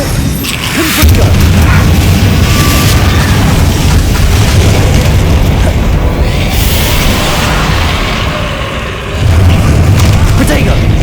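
Confringo spell explosions in Hogwarts Legacy combat: a loud, nearly continuous barrage of booming blasts and crashing bursts, dense and close, with a brief dip before the roar surges again near the end.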